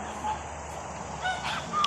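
Several geese honk in short, nasal calls, moderately near, a few scattered honks over a soft outdoor background.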